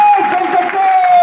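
A seminar audience bursts into loud applause and cheering, a dense crowd roar with a steady whistle-like tone ringing over it throughout.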